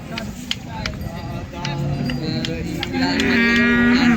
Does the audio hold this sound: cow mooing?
yes